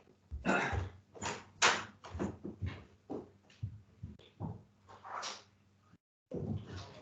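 A door opening and closing in a home, heard as a string of knocks, thuds and handle rattles over about seven seconds, with a brief silent gap near the end.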